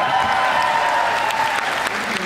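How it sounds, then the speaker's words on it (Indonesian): Audience applause at a singing competition final, dense crowd clapping with a sustained tone ringing underneath, brief and loud. "Tepuk tangan."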